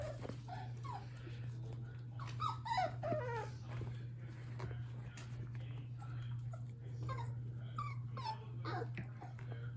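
Small, high-pitched puppy whimpers and yips come in scattered bursts over a steady low hum, close by, with no talking.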